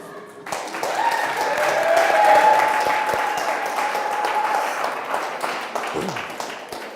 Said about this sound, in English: a hand of applause to the band